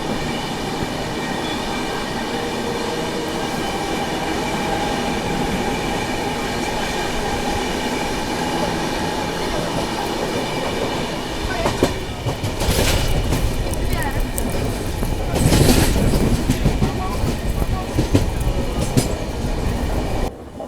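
AP Express passenger train running on rails, heard from aboard: a steady loud rumble that grows busier with clattering wheel noise and rattling, with faint voices in the carriage.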